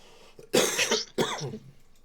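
A player at a tabletop role-playing session coughs twice, two short harsh bursts close to the microphone separated by a brief pause, alone with no talk around them.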